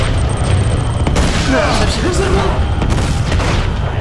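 A loud, booming explosion from the video game Uncharted 2: Among Thieves, rumbling through a dense wash of in-game noise that stays heavy for several seconds.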